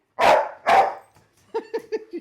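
A dog gives two loud, close barks, then a quick run of four shorter yipping barks, heard alone with no talk.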